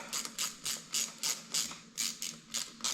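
A hand ratchet tightens a bolt on a UZ VVT-i engine's injector and ACIS sub-harness, giving a steady run of about ten close, regular clicking pawl strokes with no talking.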